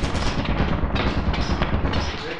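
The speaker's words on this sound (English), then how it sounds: "There's 2 turrets." Loud, unbroken rapid firing from an automatic turret in the video game Lethal Company, a dense, booming rattle that fills the whole stretch without pause.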